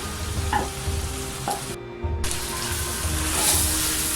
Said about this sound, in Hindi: अब इसलिए मैं 5 मिनट के लिए और फ्राई करूँगी।